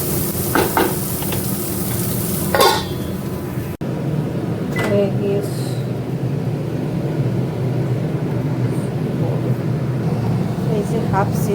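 Onion frying in oil with cardamom, cloves and black pepper, a steady close sizzle with occasional stirring clatter and utensil scrapes running throughout.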